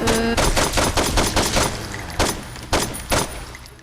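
Rapid bursts of gunfire in the video game Saints Row 2, a dense volley of shots followed by a few sharper separate cracks, loud and close.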